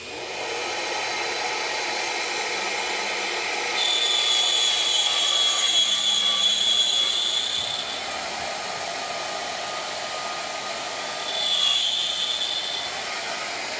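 Shaper Origin handheld CNC router whining steadily as its spindle cuts a workpiece, a continuous close high-pitched hum that swells louder for a few seconds at a time.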